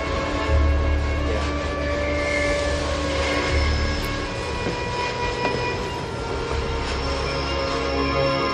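A train running steadily along the rails, a continuous close rumble with rolling rhythm and faint squealing tones throughout, loud and unbroken with no voices.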